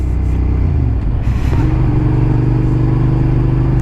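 Motorcycle engine taking a fast right turn at a roundabout, loud and close with a steady drone that dips, then revs and settles into a rising, sustained pitch, with wind rush around the rider.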